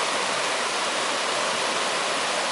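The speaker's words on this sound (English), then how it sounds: "Great Smokies are these beautiful rivers that run through here" A river in the Great Smokies flows steadily, a dense, even rush of water that is close and unbroken, with no voices.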